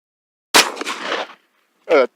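A single sharp, loud shotgun blast from a Vursan 92A shotgun firing shock-shot ammunition, with a rough trailing decay, followed after a pause by a brief voice.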